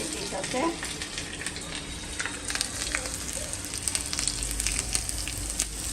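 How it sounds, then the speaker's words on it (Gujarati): Chillies and curry leaves hit hot peanut oil already holding mustard and cumin seeds, giving a continuous close crackling sizzle with small popping spits throughout. "હવે આપણે મરચી ને લીમડો નાખી દીધો છે."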